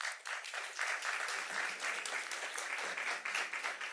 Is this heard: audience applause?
yes